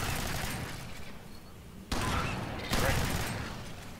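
Shotgun fire in the video game Alien Swarm: Reactive Drop comes as broad, heavy blasts, with loud shots near the two- and three-second marks over background game noise and talk.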